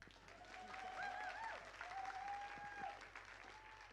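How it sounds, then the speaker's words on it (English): A church congregation applauds at a worship service, a soft, fairly distant wash of clapping that swells and then tapers off, with a few brief voices calling out over it. "You can clap."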